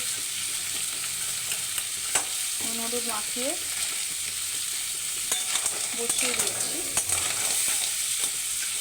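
Steady frying sizzle of crabs in a pan with occasional stirring clinks, while a voice speaks briefly over it.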